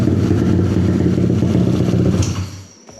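Yamaha Aerox V1 scooter engine running close and loud, a steady buzzing mechanical drone with clattering texture that holds evenly before dropping off near the end.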